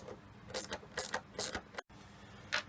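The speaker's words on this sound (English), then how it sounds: "once you get done tightening down the nut in there and kind of spacing these out correctly" Small metal clicks and ratcheting turns as a nut is tightened down on a homemade fire-top bearing, several short bursts close up with brief pauses between them.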